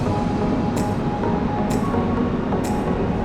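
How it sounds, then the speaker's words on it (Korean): A Korean Mugunghwa passenger train rumbles steadily along the tracks, heard from onboard. A few faint rhythmic clicks rise over the constant low rolling noise. "특히 덜컹덜컹하고 달리는 무궁화호를"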